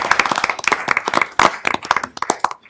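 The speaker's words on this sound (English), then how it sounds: "So big round of applause for those groups." Applause at a city council meeting from a small group, with individual claps clearly distinct and irregular rather than blended, close and fairly loud, tapering off at the end.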